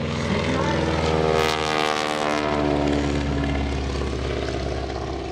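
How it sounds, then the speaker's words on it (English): A propeller airplane with a smoke system performs at the 2016 Greenwood Lake Airshow during a Third Strike wingwalking act. Its engine roars loud and close, then eases slightly as it passes. "that airplane's got a screaming smoke system too"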